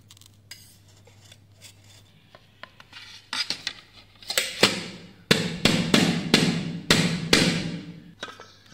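A knife cuts around steamed egg cake and slices are set on a plate, with scraping and sharp clinks of metal on dish growing louder and more frequent toward the end.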